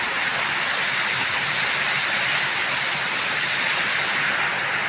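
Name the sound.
water flowing through a channel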